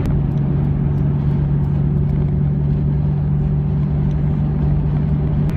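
A 25-year-old right-hand-drive Nissan Skyline GT-R heard from inside on the road, a loud steady engine hum with a strong low tone and constant road and wind noise, no talking.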